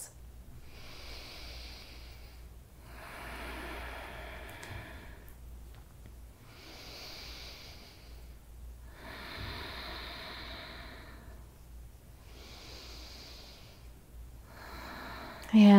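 Slow, deep yoga breaths, about five long inhale-exhale cycles of roughly two seconds each, breathy and close with soft pauses between them, over a low steady hum.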